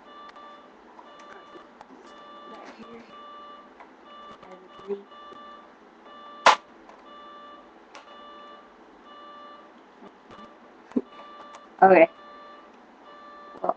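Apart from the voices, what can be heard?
alarm clock beeping in the background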